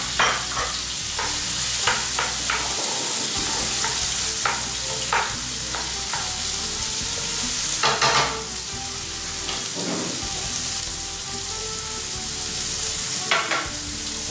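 Garlic, ginger and onions frying in a sauté pan give a steady close sizzle, with scraping and stirring clatters from a utensil recurring throughout.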